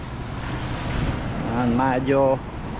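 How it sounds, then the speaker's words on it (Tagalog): Rough ocean waves wash steadily along a beach under wind noise, and a person's voice rises briefly near the end. "Medyo maalon pa rin."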